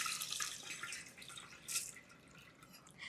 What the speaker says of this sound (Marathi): इथे एक चाळणी घेतली आहे यातलं पूर्ण पाणी आपल्याला उपसून काढायचं